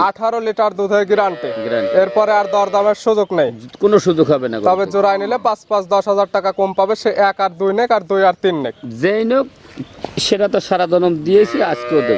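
A large dairy cow lows in drawn-out moos close by, mixed in with steady people talking throughout.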